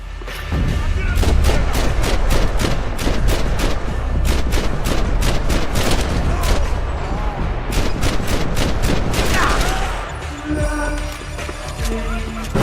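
In the Max Payne 3 video game, rapid gunfire bursts and heavier blasts from grenade explosions crack loudly and repeatedly in dense clusters, easing off near the end.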